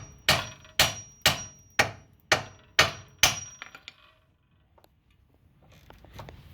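A hammer strikes the ball joint of a 2007 Hyundai Sonata lower control arm seven times in an even rhythm. The blows are sharp, loud and metallic, and a few faint clanks and a quiet pause follow.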